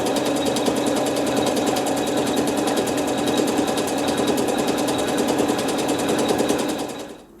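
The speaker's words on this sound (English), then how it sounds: "I have thread C and the needle only, and it's going to sew some embroidery" A sewing machine stitches embroidery with only the needle and thread for a Dresden quilt, its rapid, even mechanical chatter running loud and unbroken until it slows and stops at the very end.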